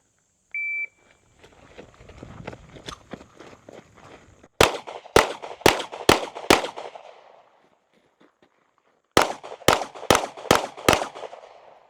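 Gunshots fired at stickered targets during a timed round: a beep starts it, then two quick bursts of six sharp, loud shots each, separated by a pause.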